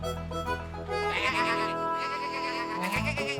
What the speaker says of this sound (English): Oh, no. It's the sheep.